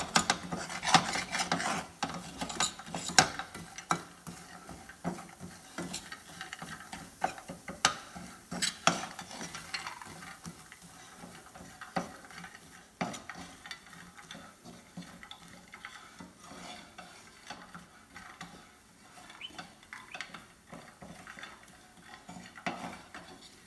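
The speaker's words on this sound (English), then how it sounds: "And of course, we're going to keep stirring." Almonds caramelizing with lavender in a pan while being stirred, producing faint, irregular scraping and clattering of nuts and a utensil against the pan, close but quiet, without talk.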